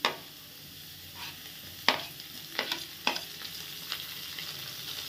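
Prawns stir-fried with carrots and beans for mixed chowmein, a close sizzle punctuated by several sharp spatula clanks and scrapes against the pan, with no talking.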